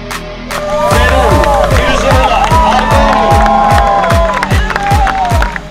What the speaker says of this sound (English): A big round of applause for the champions.